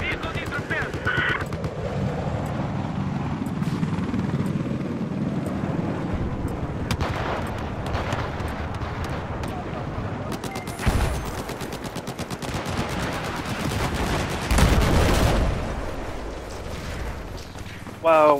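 Dense, continuous gunfire and explosive blasts rumble through a noisy Battlefield 4 battle, with an attack helicopter's drone and heavier booms near the end.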